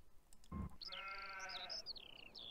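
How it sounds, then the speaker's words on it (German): A sheep in the Farming Simulator 17 video game lets out a single clear, wavering bleat lasting about a second, heard close and alone after a short thump. "Wir haben hier ein paar Schafe."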